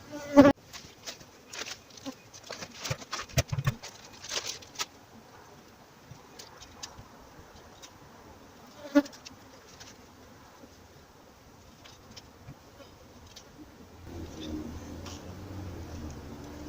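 Honey bees being moved from an owl box into a nuc, giving a close, continuous buzzing hum with scattered handling clicks and knocks, quieter toward the end.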